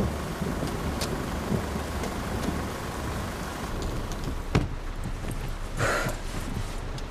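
Steady rain falling outdoors, a dense broadband hiss with a few sharper knocks and a passing swell near the end, fairly quiet and continuous with no talk.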